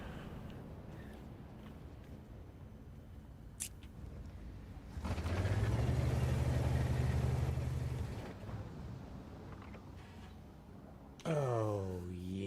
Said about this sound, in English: It's a shit engine.